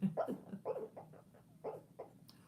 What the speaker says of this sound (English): She's barking in her sleep.